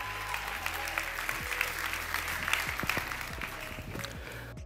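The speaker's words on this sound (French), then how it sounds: "On applaudit très fort pour l'ambassadrice Morida" Audience applause in a church gathering honoring an ambassador, a moderate steady wash of clapping under low background hum, ending abruptly.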